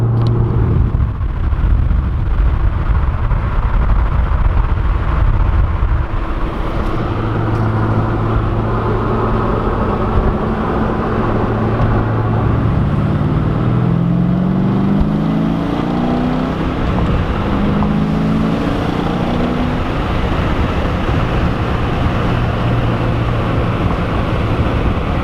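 Cabin recording of a car on a cruise, likely the WS6 Trans Am or Z06 Corvette, its engine droning steadily and loud throughout, with rising and falling tones as it shifts through gears; no talking.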